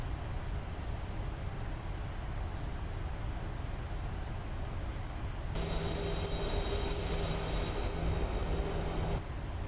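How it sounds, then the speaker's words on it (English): Landing gear lowering on a Scandinavian Airlines Boeing 737-800 in a flight simulator: steady broadband cockpit and engine noise, then a rise in rumble with added tonal hums partway through as the gear extends, continuing to the end. "let's drop the gear down"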